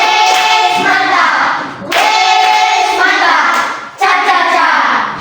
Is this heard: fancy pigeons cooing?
no